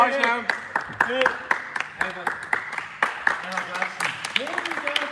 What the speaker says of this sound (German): Applaus schnell, Applaus, komm.